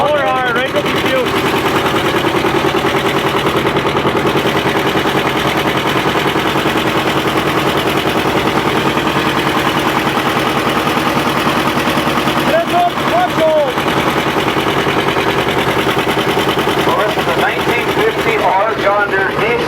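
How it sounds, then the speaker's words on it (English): A John Deere R diesel tractor engine runs hard under load on a prony brake dyno at a show, giving a loud, steady, rapid pounding exhaust beat throughout, with voices faintly heard at moments. "John Deere diesel."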